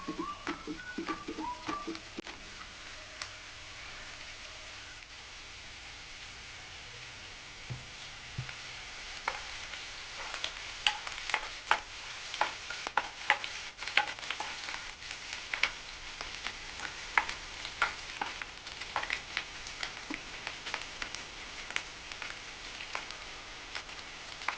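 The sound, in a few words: onion frying with ginger garlic paste, stirred in pan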